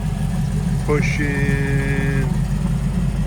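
A 1968 Camaro with a Vortec 350 V8 and roller cam idles steadily, giving a loud, even low rumble throughout while someone talks over it.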